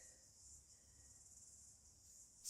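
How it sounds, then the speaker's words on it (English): Crickets chirping in a garden, a steady high-pitched continuous trill, fairly faint and alone with no talk. "The crickets are going mad in my garden."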